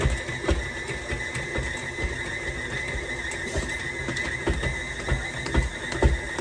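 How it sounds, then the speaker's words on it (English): A KitchenAid stand mixer kneads white bread dough, its motor whirring steadily beneath a repeating mechanical clatter and knock as the dough hook slaps around the bowl. "this is actually the KitchenAid mixer doing the kneading for me"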